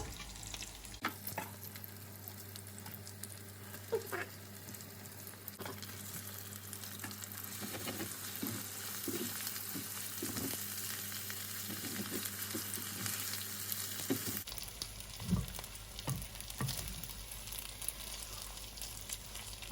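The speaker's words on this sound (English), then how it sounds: "I can toss in this pasta." Pasta sizzling in a frying pan as it is tossed, with a continuous soft frying hiss, scattered clinks and stirring scrapes, and a low steady hum underneath.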